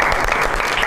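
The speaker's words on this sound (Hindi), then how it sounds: "तो बहुत सारी तालियों में वेलकम करते हैं जनाब" Audience applause welcoming a guest onto a stage talk show, a dense, steady wash of clapping that fills the whole short stretch at close range with no pause.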